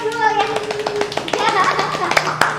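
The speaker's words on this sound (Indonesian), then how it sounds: "Kita kasih aplaus dulu ya." An audience claps for young savers at a talk-show event, a burst of scattered hand claps mixed with children's voices and a sustained tone underneath.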